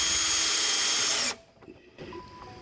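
A power drill whines loudly and steadily as it drives a self-setting screw into a splitter guard under a Ford Mustang GT350, then stops abruptly, leaving quieter handling noises afterward.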